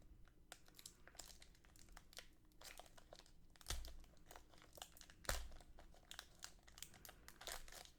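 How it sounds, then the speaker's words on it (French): Pokémon booster pack foil wrapper crinkling and tearing open at close range, a steady stream of soft crackles with two sharper rips, no talking. "on va passer directement à l'ouverture de ce premier booster"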